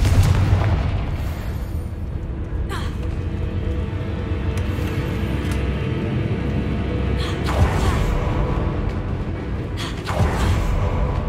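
Confringo fire spell blasts in the Hogwarts Legacy video game, several loud booming explosions spaced a few seconds apart over a continuous low rumbling game soundscape.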